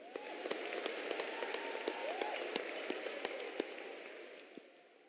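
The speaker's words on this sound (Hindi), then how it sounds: "तालियों की गड़गड़ाहट से स्वागत करें।" A large crowd at a Prime Minister's event in Rajkot, Gujarat applauds continuously, a dense roar of clapping with a few sharper claps standing out, slowly fading toward the end.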